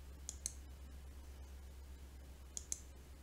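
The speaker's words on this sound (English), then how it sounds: "Just click the blue download button." Computer mouse clicks on a download button, two quick pairs of sharp, close clicks separated by a pause, over a steady low hum.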